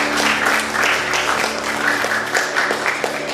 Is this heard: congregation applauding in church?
yes